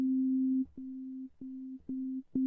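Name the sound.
synthesizer sine wave tone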